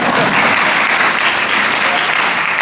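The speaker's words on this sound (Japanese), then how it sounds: "なんか拍手少ないな。" Dense, steady applause from an audience at an indoor political rally in Tokyo, filling the whole stretch as a continuous, loud wash of clapping with no break.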